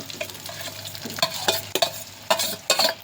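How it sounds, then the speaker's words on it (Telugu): Cooked jeera rice tossed into a pan with green chillies, curry leaves and cumin, then stirred: a quick run of scraping, clattering spatula strokes over a soft sizzle, close and fairly loud, with no talking. "మనము జీరా రైస్ మొత్తం అందులో వేసేసుకుందాము"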